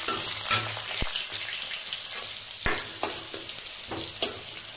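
Onion, red chillies and garlic paste fry in oil with a steady, fairly quiet sizzle, broken by a few sharp clicks and scrapes of stirring.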